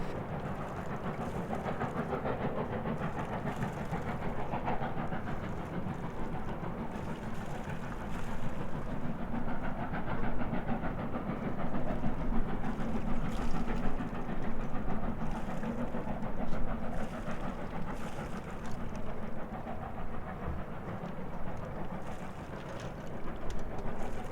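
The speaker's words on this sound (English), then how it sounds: "There's a video of a train which you'll see now." A train rumbles steadily across a viaduct with a continuous rolling roar and faint rhythmic clatter of wheels, swelling slightly midway and sustained throughout.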